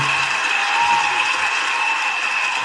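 Dense, steady applause for a guest on a sports talk show, a continuous wash of clapping that holds at an even level for a few seconds with no voices over it.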